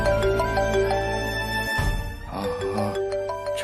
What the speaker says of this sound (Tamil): ஜான்சி மேடம் ஃபோன் பண்றாங்க.